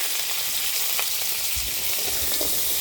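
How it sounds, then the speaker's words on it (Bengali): Crab pieces fry in hot mustard oil with salt and turmeric, giving a dense, continuous sizzle up close. A few faint stirring clicks sit in the crackle. "লবণ আর একটু হলুদ দিয়ে ভালো করে কাঁকড়াটা ভেজে নিচ্ছি।"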